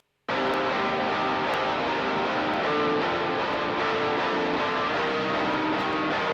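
Dense, heavily distorted low-tuned electric guitar chugging continuously through an amp-simulation plugin, thick and gritty with a steady loud wall of sound, no voices.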